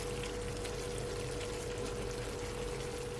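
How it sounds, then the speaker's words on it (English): Liquid from a plate poured over jerk honey lamb chops in a pan, a steady close broadband pouring and sizzling wash with no pauses and no talk. "Just gonna pour all that liquid from the plate that leave back."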